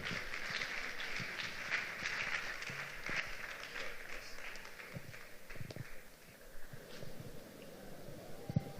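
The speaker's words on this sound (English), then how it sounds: "please a warm round of applause as we welcome Remy Olutimayin" Conference audience applauding to welcome a speaker at an autism conference: a steady wash of many hands clapping at moderate distance, thinning slightly toward the end.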